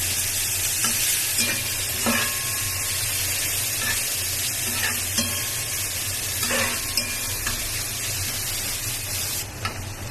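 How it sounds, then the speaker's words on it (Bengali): Chopped onions, garlic and green chillies frying in a pan while being stirred, a loud continuous sizzle with periodic scraping strokes of the spatula, no talking. "সবকিছু মিলে এবার সুন্দর করে ভেজে নেব, নাড়াচাড়া দিয়ে"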